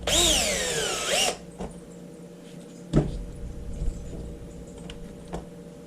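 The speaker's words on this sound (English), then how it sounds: "Try to ream it out a little bit." A power drill whines at high speed for just over a second while reaming out a rivet hole during an air compressor repair, then stops, followed by scattered metallic clicks and light handling noises.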